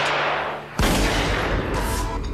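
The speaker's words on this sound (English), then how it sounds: "Shooting the helmets with a heavy caliber rifle has a devastating result." Heavy caliber rifle fired at steel helmets; one loud, sharp blast strikes abruptly after a quieter stretch, followed by sustained rumbling decay and ringing with no voices.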